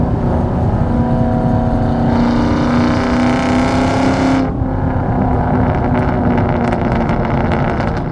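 A 2004 Ford Mustang Mach 1 with a 4.6 V8 and five-speed manual roars under acceleration after a downshift, its exhaust rising in pitch, briefly cutting at the shift, then pulling hard again, loud and close inside the car.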